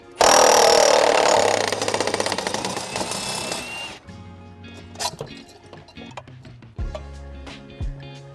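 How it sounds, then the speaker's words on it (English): A power drill whirs loudly in a sustained burst for a few seconds undoing a cartridge filter's locking ring, then stops, leaving clanks, taps and rattling of metal parts. "I like to use a drill."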